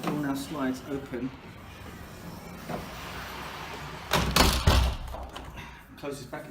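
A repaired tilt and slide door closes back into position and seals, giving a brief sliding rumble and a thud midway, with someone talking before and after.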